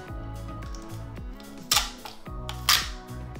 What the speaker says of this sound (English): Grab yourself a flathead screwdriver or something similar, pry it off.